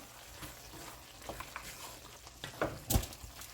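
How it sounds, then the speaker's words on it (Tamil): Fennel, clove, cinnamon and cumin powder being stirred into chicken kurma in a pot: a soft, low sizzle broken by scattered scrapes of the spoon, which grow louder and sharper near the end. No one speaks. "அதுக்குள்ளே நாங்கள் இந்த சோம்பு, கிராம்பு, பட்டை, சீரகம் அந்த பவுடரை போட்டு கொஞ்சம் மிக்ஸ் பண்ணுவோம்."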